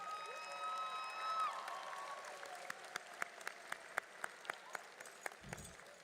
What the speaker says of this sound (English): so we may applaud you